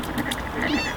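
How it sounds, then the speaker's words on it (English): Cats in an outdoor catio giving a couple of short, close meows amid light background rustle. "here's where the cats are"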